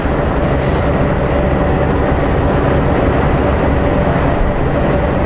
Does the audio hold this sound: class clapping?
no